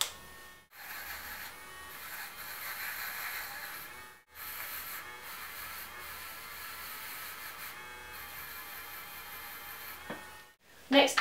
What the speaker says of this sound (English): Now I'm going to use the cleaning brush just to get rid of any dust or filings. I'm going to put this on the second setting.